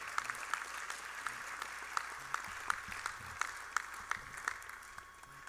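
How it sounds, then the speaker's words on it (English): Audience applause at a Crown Forum student government assembly, a steady wash of many hands clapping at moderate distance, continuous throughout and slowly tapering near the end. "please give them a round of applause"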